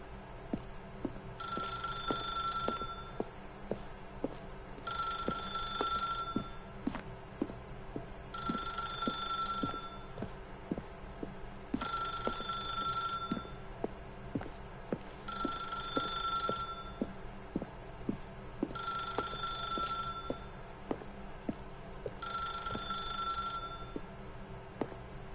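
A telephone bell rings in regular double bursts, about every three and a half seconds, clear and metallic against a quiet low hum, with no talking.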